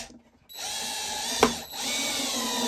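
A power drill drives a screw into a wooden bird feeder, starting after a short pause with a steady whining hum, one sharp click in the middle and the motor running on to the end.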